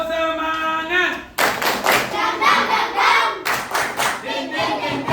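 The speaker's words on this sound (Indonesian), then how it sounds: "Tepuk semangat." Children in a classroom clap out the 'tepuk semangat' rhythmic spirit clap in quick, patterned bursts of hand claps, loud and close, following a short stretch of chanting voices.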